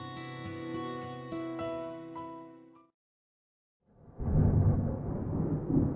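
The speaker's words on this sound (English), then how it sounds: "Big black cumulonimbus clouds are in the sky. And that sound. Thunder snow is coming." Thunder rumbles in the game Deadly Premonition 2, a low, rolling roar that swells in after a few seconds of silence, following a sustained musical chord that fades out.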